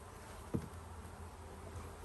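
A faint, steady insect-like buzz drifts from honey bees at an opened spring hive, with one brief soft knock partway through and no talking.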